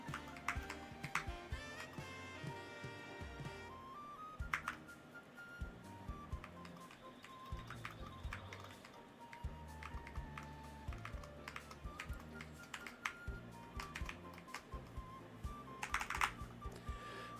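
Steady rapid clatter of keys on a new computer keyboard with a 32,000 Hz scan rate, played continuously during a Hollow Knight game session, the clicks mixed in with game music and effects underneath.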